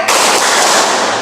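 A group in a classroom clapping game claps hard and fast in one sustained, loud, close burst that starts abruptly and fills the whole moment.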